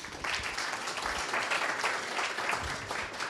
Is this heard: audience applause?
yes